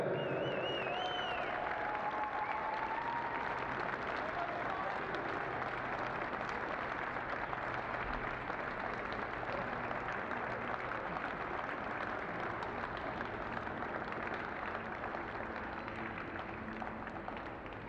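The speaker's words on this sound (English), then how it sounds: "So once again, a big round of applause to Swansea Schools FA." Broad, steady applause from an audience at a schools' under-15 football trophy final medal presentation, continuing evenly throughout with faint whistles and voices early on.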